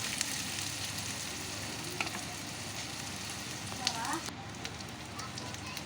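Browned onion with ginger and garlic sizzles in a pan for an egg dish, a steady close frying hiss with occasional stirring scrapes.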